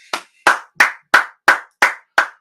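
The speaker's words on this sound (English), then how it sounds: "Let's clap it up." Seven sharp, evenly spaced claps in a steady rhythm, loud and close, as a church audience claps together in unison with silence between each clap.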